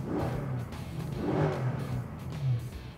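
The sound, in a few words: 2014 Mercedes C63 Fi-Exhaust in street mode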